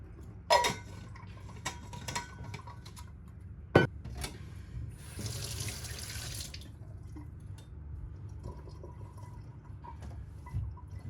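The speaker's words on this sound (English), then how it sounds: "now I need to tackle these dishes" Dishes washed at a kitchen sink: scattered clinks of plates and cutlery, a couple of sharper knocks, and a stretch of running tap water, all fairly close and quiet with no talk.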